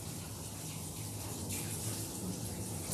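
Soft, low-pressure water sprays steadily over a smooth-coated mixed-breed dog's head during a bath, a quiet, even hiss that continues the whole time with no talking.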